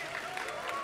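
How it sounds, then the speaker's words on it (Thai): Applause from a live concert audience at a university wind band and rock show, a short steady patter of clapping heard briefly and fairly faintly. "ทุกคนขอเสียงปรบมือให้กับพี่อาธนภาคด้วยค่ะ"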